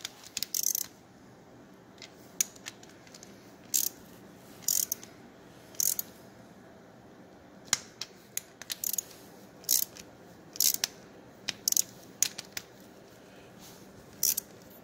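A wrench ratchets nuts tight on a 1974 Triumph Trident motorcycle, with short bursts of metallic clicking repeated at irregular intervals over a quiet workshop background.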